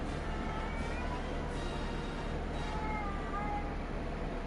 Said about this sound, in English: A cat in the background.